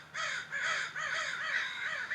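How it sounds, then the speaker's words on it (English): Crows caw in a city, giving a steady run of about six harsh calls in quick succession, moderately close and with no talk over them. "Can you guys hear the crows?"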